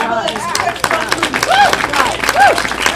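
An audience at a church talk claps together while voices cheer and call out loudly over the top, the clapping mixed into lively crowd noise.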